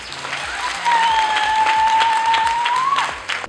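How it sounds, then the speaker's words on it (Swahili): Audience clapping in rhythm at a Christian student fellowship (CASFETA) gathering, steady and close throughout, with a sustained sung or whistled tone riding over the claps and a thump partway through. "Piga makofi kwa Yesu"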